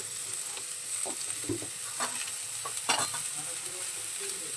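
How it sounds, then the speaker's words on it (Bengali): Eggplant and tomato frying in a little oil in a pan, stirred with a utensil, giving a steady close sizzle broken by scattered scraping clinks and soft stirring scrapes, with no voices. "বেগুনটাও তেলের মধ্যে একটু নেড়ে চেড়ে নিয়েছি এবারে আমরা টমেটোটা দিয়ে দিলাম"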